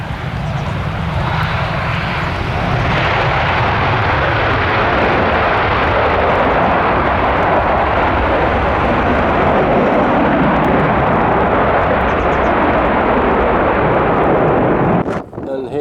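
A Boeing 747-400 of Asiana roars loudly and steadily on approach for a crosswind landing at London Stansted Airport, its engine rumble continuous and close, with wind buffeting the microphone and a faint voice at the very end.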